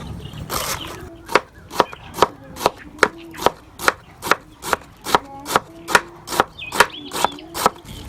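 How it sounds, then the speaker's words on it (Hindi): Knife finely chopping vegetables for a salad on a cutting board, a steady series of about thirteen sharp, evenly spaced chops, close and clear. "इसकी भी बारीक बारीक कटाई कर लेंगे।"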